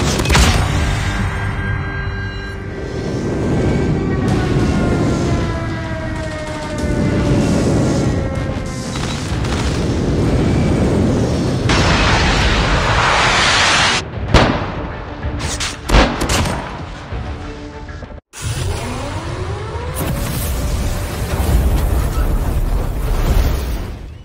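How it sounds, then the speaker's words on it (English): Airstrike explosions in the Call of Duty video game, a loud, continuous barrage of booms and crashing blasts with gunfire mixed in, closing with a few separate bangs and a brief drop to near silence. "Friendly airstrike incoming."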